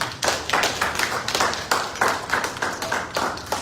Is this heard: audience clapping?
yes